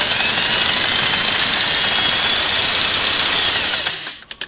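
A Singer 401A sewing machine runs flat out at high speed, a loud, steady whirring drone that holds evenly before cutting off abruptly, leaving a few brief clicks.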